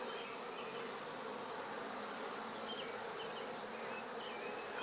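Honeybees buzz in a dense, continuous drone while a beehive is opened for inspection outdoors, the swarm sound steady and close throughout.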